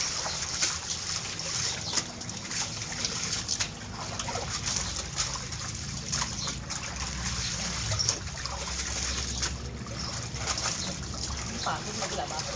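Clothes being washed by hand in water make steady splashing, sloshing and trickling sounds that run continuously at a moderate level.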